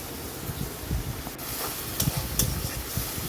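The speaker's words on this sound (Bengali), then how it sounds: "এটা এবার এখন ভালোভাবে ভাজা ভাজা হোক," Onion, ginger, garlic and green chilli frying in a pan give off a close, continuous sizzle, with bursts of scraping and stirring rising and falling over a few seconds.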